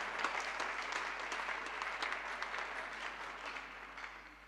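A church congregation at a convention applauds steadily, dense clapping from many hands filling the room and tapering slightly toward the end.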